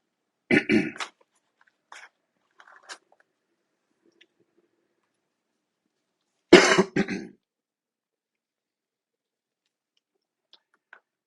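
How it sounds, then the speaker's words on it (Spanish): A person clears their throat twice with a short harsh rasp, separated by several seconds of quiet, plus a few faint small clicks. "Me coge carraspera."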